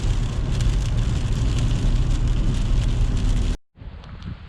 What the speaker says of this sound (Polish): na razie kurczę leje i to ostro